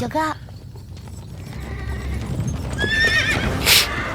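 A fierce, hard-to-tame horse gives a loud, close whinny, and its hooves clop in a quick, uneven patter before a second sharp neigh. Voices speak briefly underneath.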